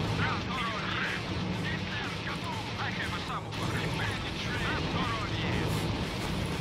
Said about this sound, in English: They're using artillery and shit.